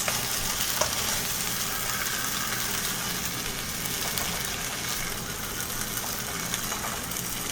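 Chicken browning in a pan with masala spices, a steady, dense sizzle and crackle of frying that holds even and fairly loud for the whole stretch, with no talking over it.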